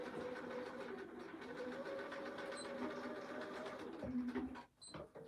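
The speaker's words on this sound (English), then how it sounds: "I'm going to spin that round because I forgot to backstitch at the end, so I'm just going to double stitch over the top of" A Bernina sewing machine runs steadily, double-stitching a seam on a zip pouch, a continuous close whirring hum that slows and stops near the end with a few clicks.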